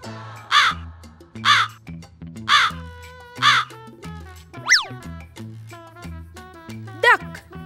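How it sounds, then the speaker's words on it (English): A crow gives four evenly spaced, loud, harsh caws, each about a second apart. Two springy cartoon boing effects follow over a soft, bouncy backing tune. "Crow."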